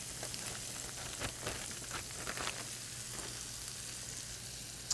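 Chopped zucchini and yellow squash sizzle and fry steadily in a pan, a constant close hiss broken by a few soft stirring scrapes.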